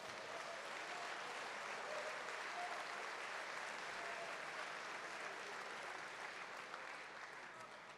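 Dense, continuous applause from a large audience at a mayor's New Year address to residents, steady and fairly distant, filling the whole stretch without pause.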